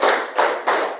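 A class claps hands together in a counted pattern, three sharp group claps evenly spaced, close and loud with no talk.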